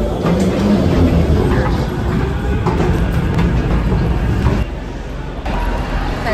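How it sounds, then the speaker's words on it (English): Loud low rumble of a train and busy station ambience, steady and close, with a brief dip near the end. "Just arrived at the train station."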